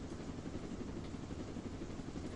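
A helicopter flying in Roblox Jailbreak, a continuous, even rotor and engine drone held at a steady, fairly quiet level with no voices over it.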